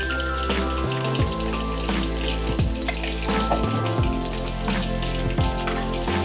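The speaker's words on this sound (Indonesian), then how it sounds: "Masukkan bumbu yang sudah dihaluskan." Ground spice paste frying in hot cooking oil over medium heat, a dense steady sizzle and crackle with scattered pops, close and continuous without talk.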